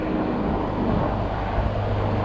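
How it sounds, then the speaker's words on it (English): A helicopter flies overhead along Rua Dois dos Jardins de Cheoc Van in Macau, a steady low engine and rotor drone that holds at moderate loudness throughout without a break, set against outdoor ambience with construction work nearby. "Got a helicopter up there too."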